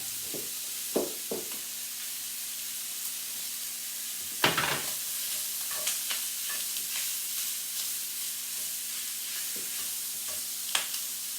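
Italian sausage and onion brown in a pan with a soft continuous sizzle, punctuated by several sharp utensil scrapes and clacks from stirring, one louder knock near the middle, close and moderately quiet, with no talking.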